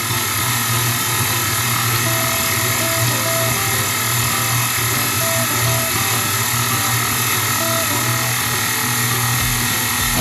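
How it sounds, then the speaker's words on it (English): A stand mixer runs at speed 2 while kneading bread dough, giving a steady, continuous motor hum with faint rhythmic mechanical ticking throughout, fairly loud and close, with no talking. "we're going to turn the mixer up on 2, and from there we're going to knead the dough for 8 minutes"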